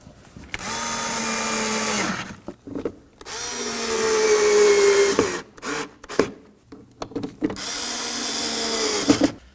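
A power driver runs in three sustained whirring bursts, pitch shifting as it loads up, while screws are driven and snugged into the plastic grille of a 2016-2020 Kia Sorento, with clicks and handling noises between.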